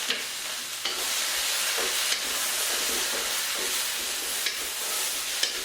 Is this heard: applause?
no